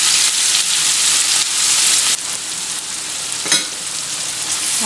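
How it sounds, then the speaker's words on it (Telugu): Chopped onion pieces sizzle in hot tempering oil with crushed dry red chillies and turmeric for a ridge gourd and dry prawn curry, a loud, steady hiss with a brief stir partway through. "పోపు వేగిన వెంటనే తరిగి పెట్టుకున్న ఉల్లిపాయ ముక్కలు వేయాలి"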